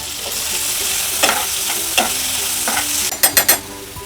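Chicken meat sizzles in melted butter in a pan under a steady frying hiss, with scraping stirs and a quick cluster of sharp clatters near the end.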